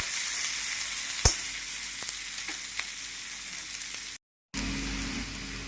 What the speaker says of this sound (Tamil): வேணுங்கின உடனே வெங்காயம் போட்டுக்கலாம். லேசாக வதங்கணும்.